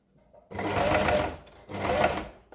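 A sewing machine top-stitches oilcloth for a make-up bag in two close, loud bursts of rapid mechanical whirring and clatter, with a brief pause between them.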